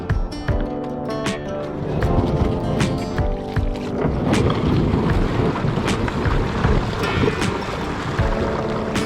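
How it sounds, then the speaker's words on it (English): A kayak with welded-on reinforcements on its hull is dragged over the ground, producing a steady, loud scraping and rumbling that runs the whole time, with a few sharper knocks. "it doesn't hurt the kayak to drag it"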